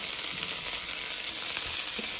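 Potato pancakes made with salami and cheese frying in a hot pan, giving a steady, loud, close sizzle with crackling oil throughout and no voices.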